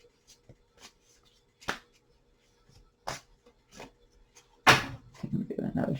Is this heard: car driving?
no